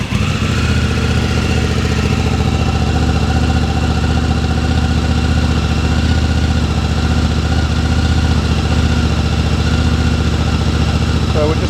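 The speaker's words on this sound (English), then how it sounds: "we'll just start the bike and see what we're sort of hitting on the DBs" A 2024 Honda Africa Twin fitted with a Termignoni titanium exhaust idles close by, its deep, loud, steady grunt holding an even pulsing rhythm throughout with no revving.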